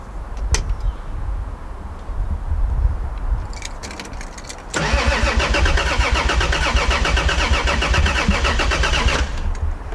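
A Toyota Supra being cranked on its first start in 15 years: the starter churns steadily and close, then a louder, denser cranking surge runs for several seconds without the engine catching.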